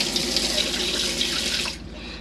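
Water runs from open mixer taps inside an Auto Trail Tracker RL motorhome, a steady close splashing hiss that cuts off sharply near the end, leaving a faint low hum.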